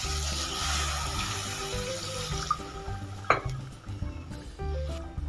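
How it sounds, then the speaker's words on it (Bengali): Water is poured into cooked spice masala for a spinach dish, making a low gurgling splash over a hiss from the pan. There is a sharp clink midway, and the pour is fairly faint and continuous throughout. "এবারের মধ্যে পরিমাণ মতো জল দিয়ে দেব।"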